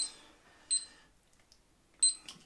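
A kitchen timer is set while making brown bread: two short, faint electronic beeps roughly a second apart, in an otherwise quiet kitchen.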